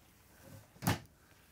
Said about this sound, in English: you have pretty good medicine cabinet storage as you have the 2 doors that open here to give you all this additional space